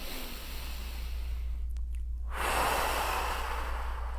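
A deep rib-cage breath, drawn in and pushed out slowly and close, with a long airy inhale, a brief pause, then a strong breathy exhale over a low steady hum.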